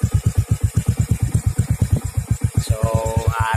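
A Honda Wave Alpha 110 motorcycle fitted with an Apido 5 version 2 exhaust idles with a loud, close, rhythmic low thumping, then the revs rise briefly toward the end.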